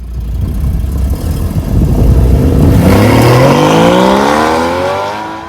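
A Porsche GT4 sports car engine revs up hard, a loud close roar that climbs steadily in pitch for several seconds before easing off, no talking.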